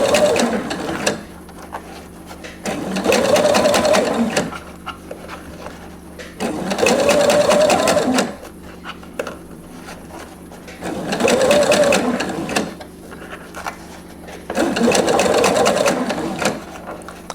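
A sewing machine shirring fabric with elastic thread runs in five bursts of fast, steady stitching, each about two seconds long, with brief quieter pauses between them. It sounds close and clear, and no one talks.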